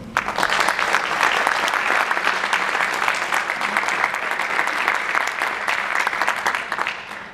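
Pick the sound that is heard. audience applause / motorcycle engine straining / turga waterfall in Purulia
audience applause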